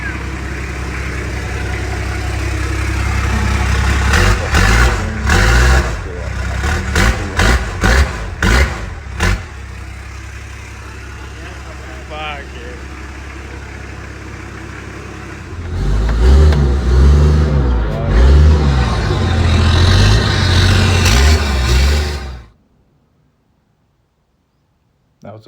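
A Toyota HZJ75 Land Cruiser under restoration drives on the road without its bar work fitted, its diesel engine loud and close, revving in repeated bursts, then settling into a steady drone before cutting off abruptly.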